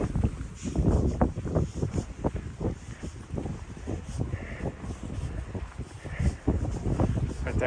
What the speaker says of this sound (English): It's going to be a windy day today.